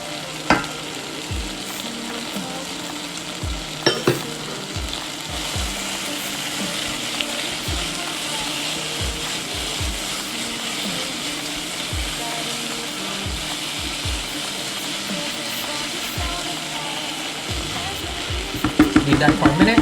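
Chorizo fries in a soup pot with a loud, continuous sizzle and crackle. Frequent spoon scrapes and clinks against the pot run through it, and a burst of rapid clattering comes near the end.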